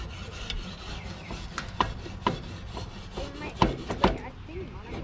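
Something stuck is scraped off a surface at a campsite, heard as repeated close, rough rasping strokes with sharp knocks mixed in, fairly loud over light background noise.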